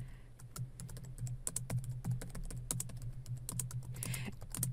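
Rapid, irregular clicking of keys on a computer keyboard while a C++ cout statement is typed out, steady close-up keystrokes over a low constant hum, with no talking.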